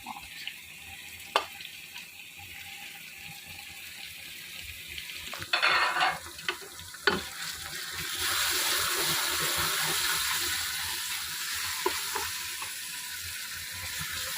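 Spices and mixed vegetables frying in a pan with a splash of water for a mix sabzi, a steady close sizzle that swells louder in the second half, with a few sharp clatters of stirring partway through.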